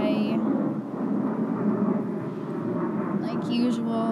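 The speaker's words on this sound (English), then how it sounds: "Sorry, there's a plane flying by." Airplane passing overhead above a house on a flight path, a steady low broadband roar that persists at moderate level throughout, with a brief higher hiss near the end.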